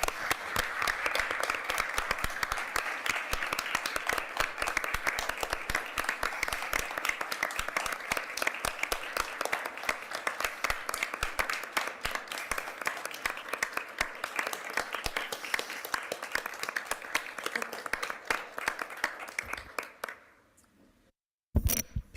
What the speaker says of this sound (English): Let's give a round of applause for Cindy Gus Jensen.